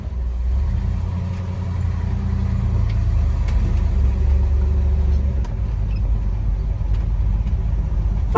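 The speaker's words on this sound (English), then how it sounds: "we're going to take this Chevelle for a test drive and see how it does" A 1966 Chevrolet Chevelle SS 396 V8 rumbles along on a test drive, its deep, steady engine drone heard from inside the car, with faint clicks and rattles over the continuous low roar.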